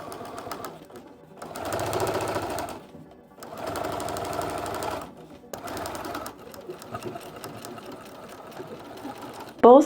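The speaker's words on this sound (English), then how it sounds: "I'm gonna take it to the sewing machine and stitch it" A sewing machine stitches the back seams of a Swan Lake style Barbie dress, joining lining to bodice and interlining, running in three steady bursts of rapid whirring with short pauses between, close and alone, ending in a sharp clatter.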